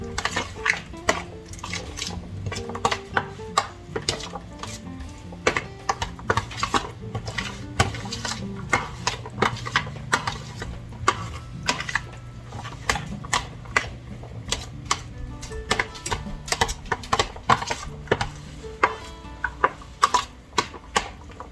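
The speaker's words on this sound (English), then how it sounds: "Stir it up." A spoon clinks and taps against a glass or cup while a detox diet drink is stirred, a quick irregular series of sharp close clicks that runs on for about twenty seconds.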